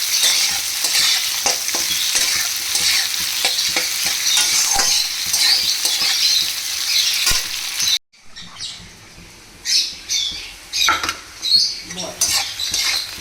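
Onions for desi chicken kasha fry in a pan with a steady close sizzle and scraping stirs, then the hiss drops away and only sporadic clinks and scrapes of the spoon remain.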